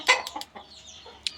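A hen kept with a rooster among backyard birds clucks up close in a quick burst of loud, choppy calls, followed by a few softer clucks and a last sharp note.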